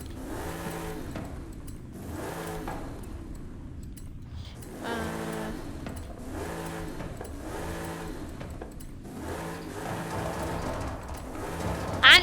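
In Forza Horizon 5, an Alumicraft 6165 Trick Truck fitted with anti-lag revs hard in about five rising bursts, each climbing in pitch before dropping back, loud and close, with a sharp crackle at the very end.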